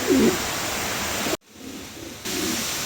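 Soft cooing from king pigeons for sale sits near the start against a constant wash of noise, with a brief drop in the middle before the noise returns.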